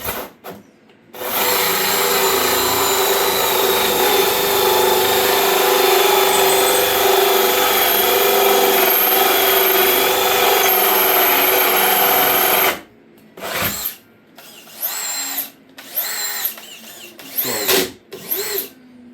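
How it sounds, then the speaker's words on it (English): A loud drill grinds continuously through about 2 inches of thick wood in a door for a handle hole, about twelve seconds, then restarts in several short bursts. "You're talking 2 inches to burn to drill through."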